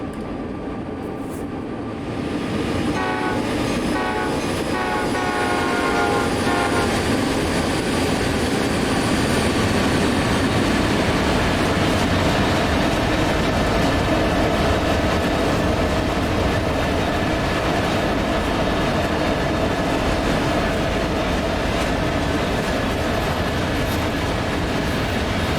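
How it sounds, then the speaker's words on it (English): An ethanol freight train in the Train Sim World 2 game, led by four locomotives in notch 8, thunders past with a loud sustained rumble and steady rail clatter, swelling after a brief quieter start and holding full volume throughout. "Man, that ethanol train was hauling."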